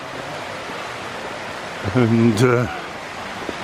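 A small hillside tributary stream at Tarn Hows flows with a steady, soft rushing wash throughout, while a voice briefly speaks over it midway.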